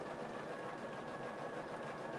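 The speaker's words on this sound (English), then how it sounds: "this is totally just a practice stitch out, Shay Shay." An embroidery machine stitches a practice stitch-out, a quiet, steady, fast mechanical whirring hum that runs continuously without pause.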